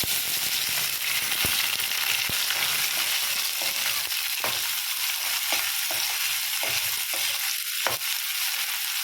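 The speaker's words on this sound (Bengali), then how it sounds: "এবার পেঁয়াজ দিয়ে দিচ্ছি" Sliced onions fry in hot oil with cinnamon and small cardamom for a mutton curry, giving a steady, loud, close sizzle and hiss broken by sharp clicks and scrapes of stirring, with no talking.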